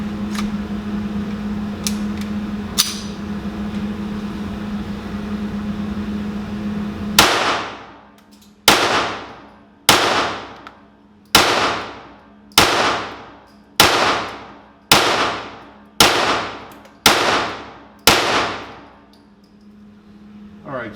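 A Browning Buck Mark .22LR target pistol fires ten sharp, evenly spaced shots up close, each crack ringing briefly, after a stretch of low steady hum.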